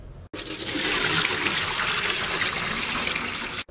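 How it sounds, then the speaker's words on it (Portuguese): Soaking water poured off bitter oranges being prepared for candied orange sweets, a loud, steady, close gush of water pouring out continuously for several seconds with no talking. "Jogar essa água fora e partir para o próximo processo."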